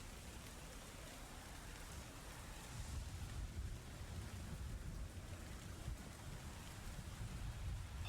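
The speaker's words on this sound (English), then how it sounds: "The thunder roars again around you." Steady rain pours as tabletop role-playing game ambience, with low thunder rumbling and swelling through the middle. The sound is continuous and enveloping, with no voices.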